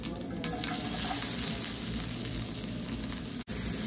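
Cumin seeds and chopped garlic sizzle steadily in hot oil in a frying pan, a dense, continuous hiss at close range with a brief dip near the end.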